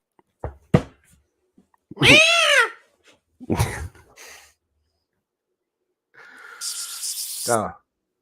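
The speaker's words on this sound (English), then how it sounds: "kitty cat." A cat meows several times, close and clear, with rising and falling cries in separate bursts and a higher hissing or squealing sound near the end.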